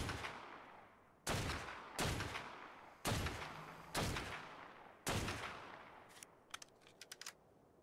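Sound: rifle gunshots from the video game Modded Ark Survival

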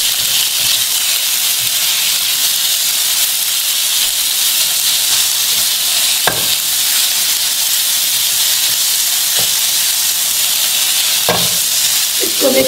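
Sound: fish being stirred and mixed in a frying pan

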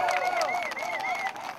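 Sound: crowd applauding at a rally

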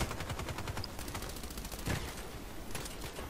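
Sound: gunfire from Contract Wars, video game

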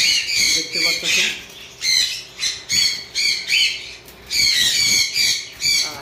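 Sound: conure parrots squawking

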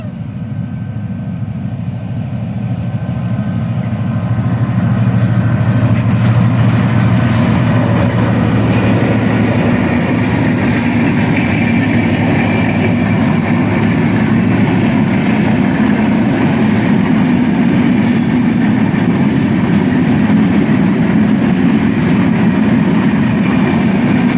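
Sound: train passing

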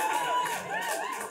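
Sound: audience applause and cheering at a comedy show

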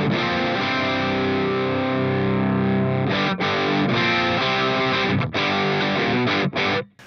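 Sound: electric guitar through Boss Katana amp head, presence off

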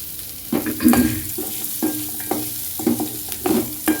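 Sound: pirandai (adamant creeper) sautéing on low flame for chutney

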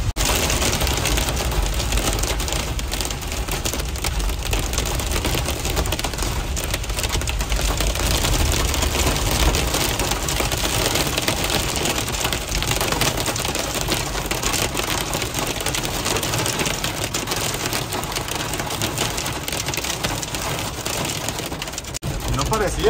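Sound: rain falling

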